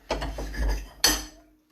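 A knife cuts a double-decker jam sandwich in half at a camp: a few short, close scraping strokes, then a sharp clink of metal as the blade finishes.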